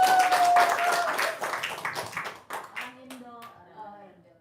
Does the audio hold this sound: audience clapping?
yes